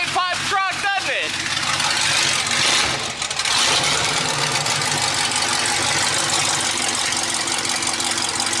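An LS-swapped Ford Mustang with an automatic transmission and straight-pipe exhaust fires up with a few sharp revving pulses, then settles into a loud, rough, rumbling idle close by, while people talk over it.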